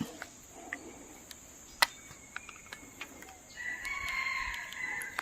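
After a few scattered clicks and faint insect chirps, a red junglefowl rooster gives one drawn-out crow in the middle distance, in deep forest near a high cliff.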